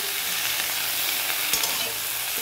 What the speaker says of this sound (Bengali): তারপরে আবার ভালো করে একটু ভেজে দিচ্ছি